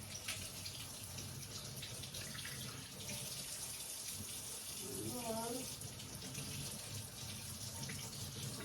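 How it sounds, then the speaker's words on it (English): A kitchen sink tap runs steadily while carrots are rinsed under the stream for a bone broth, a continuous close rush of water with a brief voice murmuring partway through. "I'm going to run over to the sink real quick. And I'm just going to rinse them off."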